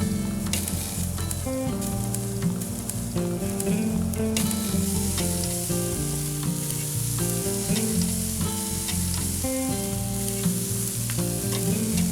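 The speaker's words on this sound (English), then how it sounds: "Before flipping and shifting the pieces around." Hawaiian BBQ teriyaki chicken pieces cooking on a grill, giving a dense, continuous loud sizzle and crackle that never lets up, with no voices over it.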